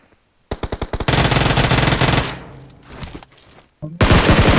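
Automatic rifle fire in the video game PUBG: loud, close bursts, first a few separate rapid shots, then long sustained volleys with a short lull before another burst. No one speaks.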